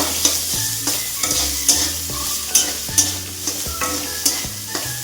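Ginger, garlic and chili frying in a pan while being stirred, a loud close sizzle punctuated by regular scraping strokes of a spatula roughly every half second.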